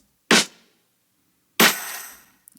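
Two loud, close snare drum hits are shaped with compression and distortion plugins. The second one has a bright, longer ringing tail, and no one talks over them.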